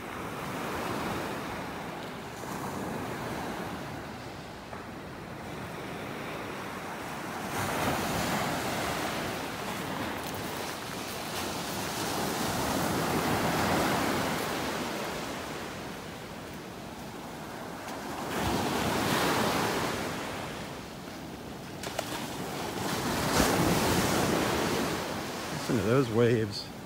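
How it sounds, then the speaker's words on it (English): Ocean waves break and wash ashore on a beach in North Naples, Florida, a steady roaring surf that swells and recedes in long surges, with wind buffeting the microphone. "Listen to those waves."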